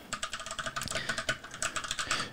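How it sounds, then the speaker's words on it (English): Rapid typing on an EYOOSO Z19 compact mechanical keyboard, a close, crisp stream of uneven clacky keystrokes with no talking. "And right now I just typed in hello"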